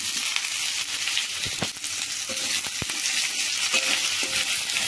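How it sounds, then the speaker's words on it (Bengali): Potatoes and onions sizzle together in a hot pan, a steady bright hiss with a few scraping stir knocks, no voices. "এবার আলু আর পেঁয়াজটাকে দিয়ে দেবো একসাথে।"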